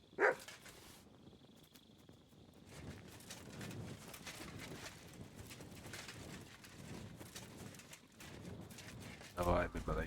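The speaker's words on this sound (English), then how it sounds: "Давай, мій маленький песику, давай." In the video game Kingdom Come: Deliverance 2, a dog lets out a sharp bark, then barks again in a loud burst several seconds later, with a voice speaking and ambient outdoor noise in between.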